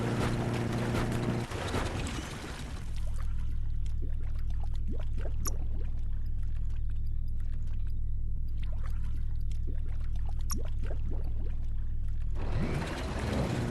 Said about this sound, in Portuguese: Agora a gente tem um jet ski, né?